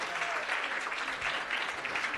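Steady applause rolls from an audience at a speaking event, a mid-level wash of many clapping hands that holds evenly from start to finish.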